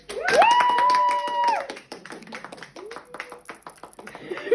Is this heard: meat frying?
no